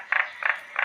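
Narrow-mouthed toads croak in a rainy-season setting, three short buzzy calls evenly spaced, fairly close and clear with no voices.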